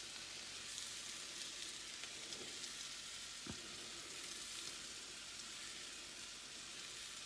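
Melted butter sizzling steadily in a frying pan as it is swirled to coat the surface before an omelet, a soft, even crackle with one brief knock partway through.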